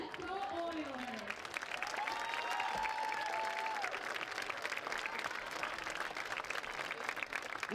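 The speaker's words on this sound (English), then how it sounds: "One more round of applause for the Paramount High School homecoming court king and queen" Crowd applause and cheering at a high school homecoming during a varsity football game, a steady dense roar of clapping with voices and an announcer's amplified speech over the stadium.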